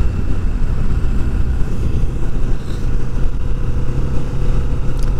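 A 2020 Kawasaki Vulcan S motorcycle cruising in fourth gear at about 5,000 rpm, a loud, constant engine drone mixed with road and wind noise, with no talking.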